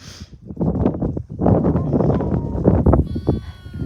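Newborn lambs, a mix of ram and ewe lambs, bleat repeatedly and close by in quick overlapping cries, with some rustling around them.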